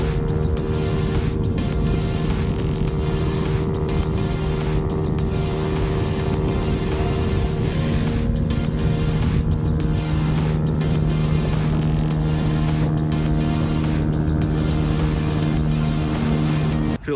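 A Honda Navi mini motorbike with an upgraded carburetor runs at top speed, its engine droning steadily under loud wind rush with a slight pitch shift midway, constant and close.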